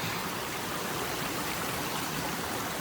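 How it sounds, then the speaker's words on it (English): A stream at a trail water crossing on the Appalachian Trail rushes in a constant, dense wash of water noise, close and loud, with no voices. "Got our first water crossing of the day."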